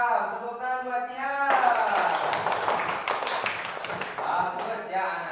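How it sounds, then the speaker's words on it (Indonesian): Schoolchildren clap together in a religious studies classroom, a burst of brisk, close clapping that sets in after a stretch of voiced sound and stops near the end. "Tepuk tangan buat dia."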